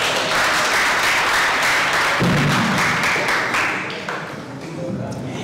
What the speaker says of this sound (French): je demande qu'on l'applaudisse